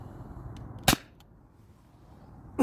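A Sabre 68 home defense launcher fires a T4E rubber ball, giving one sharp, loud crack near the start and a second short snap at the end, over quiet room noise.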